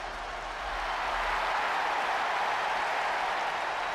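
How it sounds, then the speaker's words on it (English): Steady roar of a virtual arena crowd at a WWE 2K22 Monday Night Raw wrestling event, a dense sustained wash of cheering that holds loud and even throughout with no distinct voices. "And this crowd tonight is loving it."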